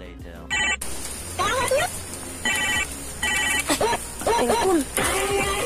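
A telephone rings in repeated electronic bursts of even length with short gaps between them, loud and close, while voices talk over it.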